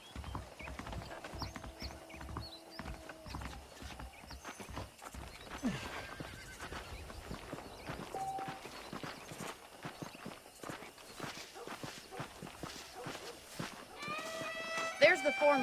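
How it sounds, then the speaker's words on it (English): Horse hooves clip-clop steadily as a horse is ridden in the Red Dead Redemption western video game, with occasional whinnies and neighs, set among game music and ambient sound while a character speaks. "Okay, let's see if you can still ride a horse."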